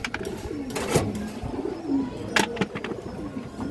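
Pigeons coo in low rolling phrases with a few brief chirps and some background noise, close and moderately soft.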